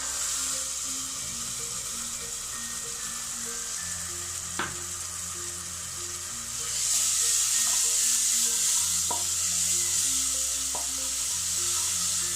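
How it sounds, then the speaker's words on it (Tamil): Ground paste added to browned onions and sautéed in a pan, producing a continuous close sizzling fry that grows louder and brighter midway, with a few sharp clicks of stirring and a faint background hum. "நம்ம அரைச்ச பேஸ்ட் சேர்த்துடலாம்"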